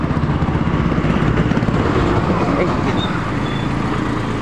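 Dense, loud road traffic rumbles continuously nearby, engines droning steadily with a faint horn, and talking mixed into the noise.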